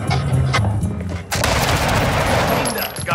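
Dense bursts of gunfire in Modern Warfare 2 multiplayer, a quieter opening followed by a sudden loud volley of automatic shots that keeps going to the end.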